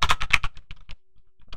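Quick keystrokes on a computer keyboard, a close burst of rapid taps that slows into a few separate presses and then goes quiet before one last soft tap.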